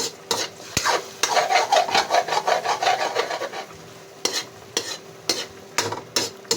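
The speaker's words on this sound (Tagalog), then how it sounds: "Haluin ko na." Spoon stirring a sardine omelette mixture during home cooking, a steady scraping rhythm of quick rasping strokes close up, pausing briefly and then resuming as a few separate scrapes.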